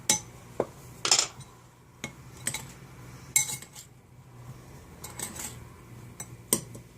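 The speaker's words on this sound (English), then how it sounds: "Now I'm just going to stir this up" Dry cookie crust ingredients are stirred in a bowl with a utensil, producing intermittent clinks and scraping knocks against the bowl's side, close and fairly quiet, with no talking.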